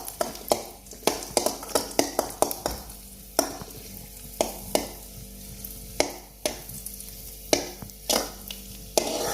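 Raisins fry in a pan for shavige payasa, with repeated sharp scrapes and taps of a spoon stirring over a low, soft sizzle, in an irregular rhythm throughout.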